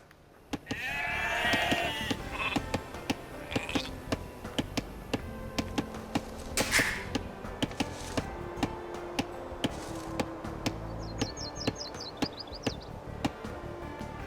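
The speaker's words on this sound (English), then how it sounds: "You've found some sheep." Sheep bleat in the Age of Empires II video game, close and clear over soft rhythmic ticking and other game sounds.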